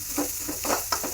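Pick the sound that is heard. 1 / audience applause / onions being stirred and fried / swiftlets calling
onions being stirred and fried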